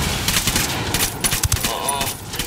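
Gunfire and blasts from a grenade fight in the tactical shooter game Ghost Recon Wildlands on PC, with dense, continuous bursts and a couple of heavier thumps near the middle of the clip.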